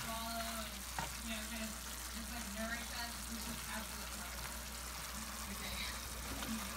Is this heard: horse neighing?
no